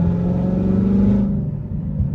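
A 1200-horsepower Ford GT500 engine revving hard with a loud, steady roar, its pitch shifting about halfway through as it upshifts, then carrying on at a lower, rumbling drone, close and continuous.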